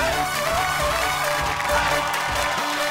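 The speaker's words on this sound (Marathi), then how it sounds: "ओके, एकदा जोरदार टाळ्या होऊन जाऊ देत." Loud, dense applause from the audience of a Marathi women's game show, a sustained wash of clapping under music-like tones that stays strong for the full three seconds.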